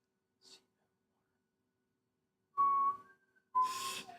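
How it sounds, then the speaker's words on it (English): A person whistles short hinting notes during a quiz game show, two brief whistled bursts after a faint breathy sound, with quiet gaps between. "If you're going to give answers, don't whistle."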